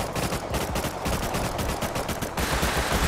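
Rapid, continuous automatic gunfire from the video game Rust Console Edition, with loud shots cracking in quick succession throughout and no talk.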